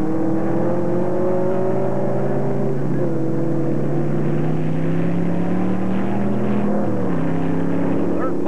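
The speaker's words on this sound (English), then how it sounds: "Donahue ekes past George Fulmer at turn two" Late-1960s Can-Am sports racing cars at the 1966 Las Vegas round roar past on the circuit, their engine notes rising and falling in pitch as they pass, loud and continuous with a commentator speaking over them.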